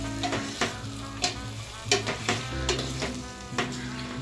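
Fresh peas and cubed medium potato stirred into oiled prawn pulao masala in a single pot, with repeated spoon scrapes and knocks over a steady low sizzle, close and moderately loud.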